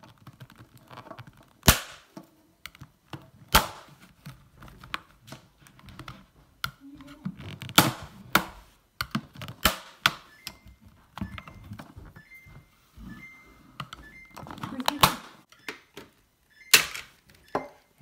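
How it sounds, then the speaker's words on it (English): Sharp plastic snaps and clicks from a putty knife prying open clips on a Samsung French door fridge divider, scattered irregularly across the stretch with a few loud pops among quieter ticks, no talking. "you're basically going to use a putty knife or a knife, and you're going to pop these open"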